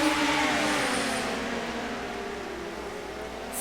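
Midget race cars roar around Pevely speedway at the green flag, a dense, steady wash of several engines at full throttle, loud and continuous with a slight fade as the pack moves off.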